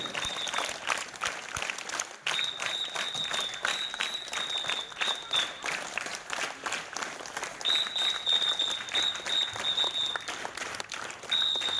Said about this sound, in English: Applause should be rhythmic.